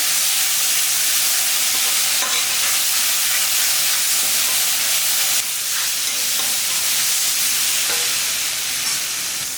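Crushed garlic and ginger sauté in a hot pan, making a loud, steady sizzle throughout with occasional scrapes of stirring and no talking.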